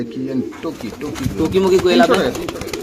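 Pigeons coo at a busy pigeon market, soft repeated low calls mixed with nearby chatter and people talking throughout.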